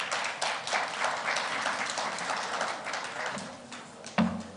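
Conference audience applauding, a dense and even burst of many hands clapping that holds steady for several seconds and then fades slightly toward the end.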